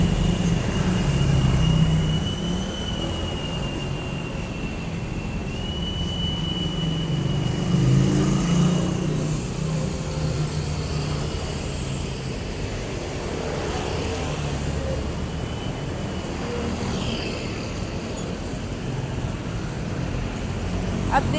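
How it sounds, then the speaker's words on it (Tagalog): Roadside traffic near the Paso de Blas Malinta exit in Valenzuela City, with a continuous rumble of passing cars and heavier vehicles plus an engine whine, under someone talking. "Maraming mga dumadaan din na sasakyan dito."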